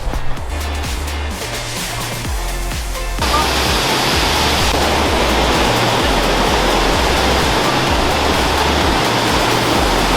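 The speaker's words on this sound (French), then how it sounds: "cette fois-ci on va voir une autre cascade qui s'appelle The Rolly Falls" Steady roar of the Rolly Falls waterfall in Scotland, loud and continuous, growing fuller after a few seconds as rushing water fills the scene.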